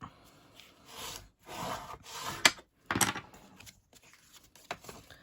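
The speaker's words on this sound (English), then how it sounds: "You can fold and burnish that." Scored cardstock for a handmade card is folded and burnished by hand, giving close papery rubs, a few sliding swipes and sharp creasing taps in short bursts with quiet gaps between.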